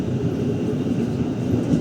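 KA Batavia economy train departing Solo Balapan station, a steady low rumble of rolling wheels and carriages, close and continuous for a brief moment, with no talking.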